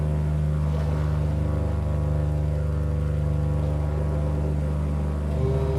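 A twin-propeller Cessna 337 drones steadily at 2500 RPM in an X-Plane flight simulator during stormy weather, giving an unbroken, loud tonal engine hum with strong low harmonics.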